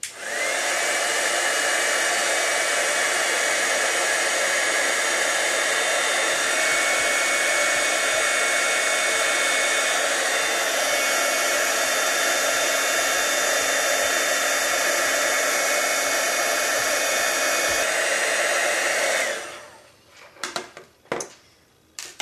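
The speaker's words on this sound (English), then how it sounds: "Now it's going to get loud for a moment until I finish heat embossing this." A loud, steady blast of hot air from a heat embossing tool embossing card ornaments runs for nearly twenty seconds, then cuts off, followed by a few faint clicks and rustles.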